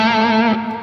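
Electric guitar through a Klon overdrive stacked with an 808 Tube Screamer, giving a honky mid-range tone, rings out as a single sustained, slightly driven note that fades within a second.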